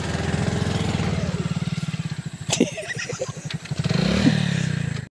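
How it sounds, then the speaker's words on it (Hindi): A motorbike engine putters loudly up close, then revs hard in uneven bursts as the bike is hauled out of a pothole on a rough rural road, with clattering and a brief voice in the mix. "इस गड्ढे में से संस्कार ने बाइक निकाल ली"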